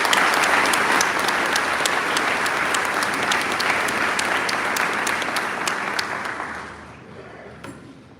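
A large commencement crowd gives sustained, loud applause welcoming a speaker to Georgia Military College, a thick continuous roar of clapping that fades down over the last couple of seconds.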